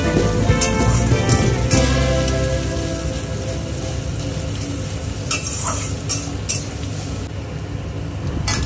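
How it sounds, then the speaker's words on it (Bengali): Dry chillies and onions fry in hot oil in a pan for a rui fish curry, a continuous loud sizzle with occasional utensil scrapes and taps from stirring, close by. "30 সেকেন্ড পরে আমি পেঁয়াজগুলোকে দিয়ে একটু লাল লাল করে ভেজে নেব"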